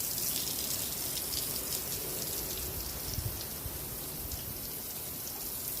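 Water spraying steadily onto fresh lime work to give it a good soaking, a continuous hissing patter like rain close by, with no voices.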